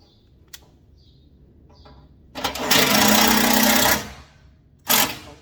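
Power driver sinking screws into the blower housing of a Bryant 355CAV furnace: a few faint clicks, then a loud, steady whirring burst of about a second and a half, followed by a second short whir.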